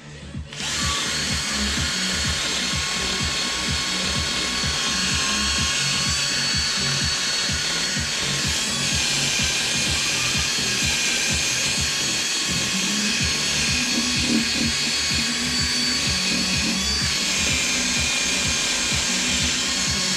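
A power drill fitted with a wire brush scrubs carbon deposits off a Subaru EJ20 cylinder head, a loud steady whine with scratchy grinding that runs continuously and close up for the whole stretch.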